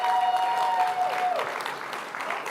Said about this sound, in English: So let's do one big round of applause for everybody.